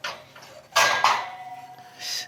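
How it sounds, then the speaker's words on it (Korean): Uncooked rice poured out of a container at home in a kitchen, giving short bursts of rattling, pattering grains with clattering dish contact, fairly close, with quieter gaps between pours. "우선은 제가 쌀을 담아 놨으니까 요거를 다시 비우겠습니다."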